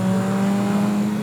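Caterham Academy race cars at Brands Hatch, a loud sustained engine drone with a steady pitch, held close and without a break for a brief moment.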